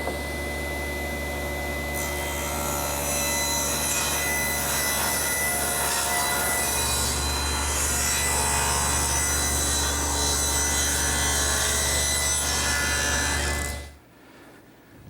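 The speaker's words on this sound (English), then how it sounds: "So I've set up my table saw, tilting the blade to 10 degrees and setting the rip fence." A table saw with its blade tilted to 10 degrees rips beveled edges along wooden fence stringers: a loud, continuous whine and cutting roar close by for about fourteen seconds, then the blade winds down abruptly to near quiet.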